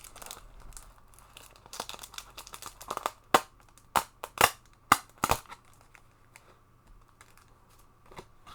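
Plastic wrapping crinkles and snaps as it is peeled off a Lost Caverns of Ixalan Magic card draft box, with sharp close crackles clustered in the middle amid quieter rustling.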